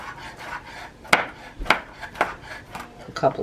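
A knife slices and minces on a cutting board in a kitchen, a handful of sharp, distinct chopping knocks spaced about half a second apart, close and fairly quiet between strikes.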